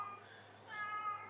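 A cat named Smokey meows once, a faint drawn-out cry set back in a quiet room, alone without talk.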